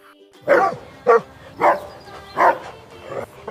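A cartoon-style dog barks five times in an even rhythm, each bark short and clear, within a children's alphabet song.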